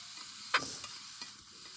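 A spatula scrapes and stirs cauliflower paturi mixture in a hot wok over a continuous sizzle, with a few sharp scraping strokes standing out; no one speaks.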